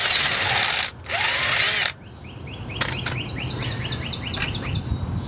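A power tool whirs in two loud bursts of about a second each while loosening the belt tensioner bolt on a 2007 Chevy Tahoe. Outdoor birds chirp steadily in the background afterward.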